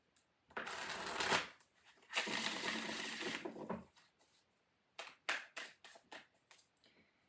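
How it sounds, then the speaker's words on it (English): Tarot cards being shuffled by hand in two long riffling bursts, then a series of short sharp taps and flicks as the deck is squared, close and crisp against a quiet room. "One more shuffle."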